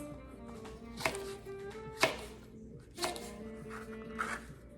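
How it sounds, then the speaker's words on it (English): A knife chopping red chilies on a cutting board, four distinct sharp chops spaced about a second apart over a quiet background hum, close and crisp. "I'm going to cut up the red chilies."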